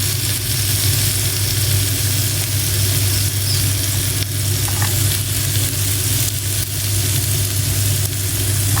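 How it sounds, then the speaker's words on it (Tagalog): Chopped onion and garlic sauté in a hot pan as part of a bitter gourd dish, giving a loud, continuous frying hiss over a steady low hum, with no talking. "Lagyan na po natin ang sibuyas."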